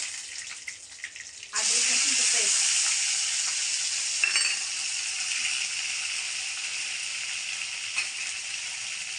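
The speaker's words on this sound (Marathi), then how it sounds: "हे धुवून मी इथे टाकते कढीपत्ता" Curry leaves and ginger-garlic paste hit hot oil in an Indian tempering, setting off a loud, steady sizzle that holds to the end, with a brief bubbling burst near the start and some faint stirring.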